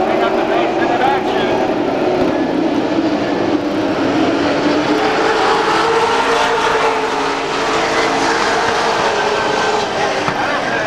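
Sportsmen-class race cars accelerate around Saugus Speedway, a dense, loud engine drone rising and falling steadily, with a commentator talking over it throughout.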